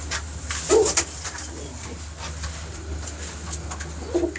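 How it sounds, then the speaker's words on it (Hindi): A pigeon of a prized breed coos softly at a pigeon keeper's loft, low throaty notes near the start and again at the end over steady background hum and scattered noise. "फिलहाल ये कबूतर देख लें।"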